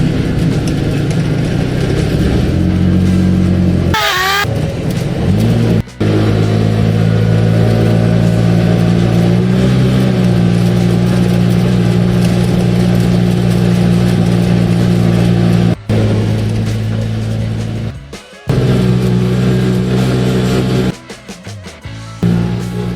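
A tuk-tuk's engine labors up a climb on a bypass road in Laridel, Quezon, during a Manila-to-Albay road trip. Its close, loud, steady drone holds nearly throughout, cutting out briefly a few times.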